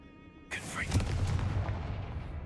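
A Confringo fire spell blast in Hogwarts Legacy erupts at half a second into a loud, booming burst, then rumbles on with a lingering low roar and crackle over the rest of the clip.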